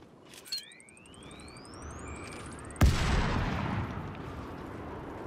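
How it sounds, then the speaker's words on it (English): A grenade blast in Star Wars Outlaws, a sudden loud broadband burst near the middle, trailing into a long rumbling decay over sci-fi tones and sweeping chirps with no voices. "grenade"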